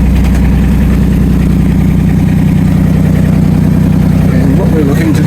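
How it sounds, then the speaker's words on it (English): A boat's engine runs steadily at idle during Hurricane-free calm on a cruising vessel in Queensland, a constant low drone filling the clip with a faint voice briefly near the end. "we've got our trusty engine going, which is going to be delivering power"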